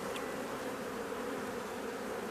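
Honeybees at an open beehive during a spring inspection produce a steady, dense droning hum that stays close and even throughout, with no speech.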